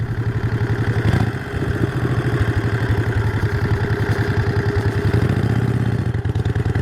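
A 1951 Harley-Davidson EL Panhead motorcycle engine runs steadily and loud, close by, with a rapid, lumpy rhythmic firing pulse and mechanical clatter throughout.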